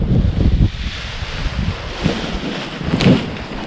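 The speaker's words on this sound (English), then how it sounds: "the wind looks pretty good right now" Strong wind buffets the microphone at a paragliding launch in high-wind conditions, a loud continuous rumbling roar that swells and gusts, with a heavier blast near the end and no voices.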